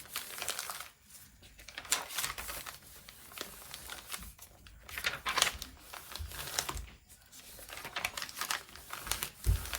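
Paper for a journal signature is folded and handled up close, giving a run of crisp crinkles, creases and rustles in irregular bursts with short pauses between them, and no voices.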